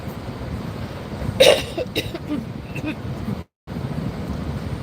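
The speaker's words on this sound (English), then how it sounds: "It's like every so often I gotta clear out my throat." One short, rough throat-clearing burst from a man with a cough from a cold, over steady wind noise, followed by a few smaller sounds and then a brief dropout.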